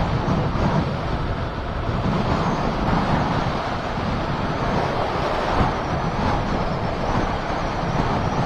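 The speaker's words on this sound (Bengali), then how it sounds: "আর মারাত্মক হাওয়া দিচ্ছে, এতটাই হাওয়া দিচ্ছে এখানে যে গাড়ি নর্মালি দাঁড়িয়ে দাঁড়িয়ে কাঁপছে" Strong wind gusting beside a road, a loud, continuous roaring rush buffeting the microphone for the whole stretch, with no voices.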